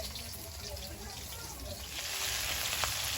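Garlic frying in hot oil in a home kitchen pan gives a steady, close sizzling hiss that stays fairly even and swells a little louder toward the end, with faint speech in the background.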